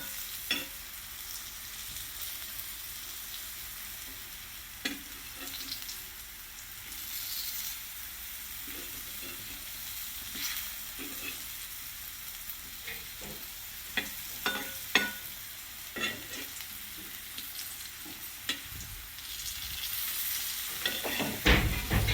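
Rava-coated potato slices shallow-fry on low gas with a soft, continuous sizzle, broken by occasional scraping and stirring clicks from a spatula in the pan, with no voices.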